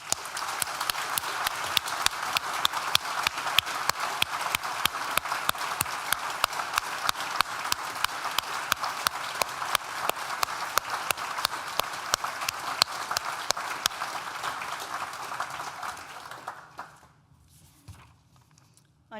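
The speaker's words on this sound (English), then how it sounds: "I would like to invite you to join me in a round of applause" A large audience at a university graduation ceremony for a School of Social Sciences gives a sustained round of applause, dense and even for about sixteen seconds before tapering off into near silence.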